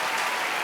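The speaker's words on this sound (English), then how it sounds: "can you give us an applause?" Brief burst of dense audience applause for a performer named Steve at a lockdown-era live show, steady and fairly loud with no voices over it.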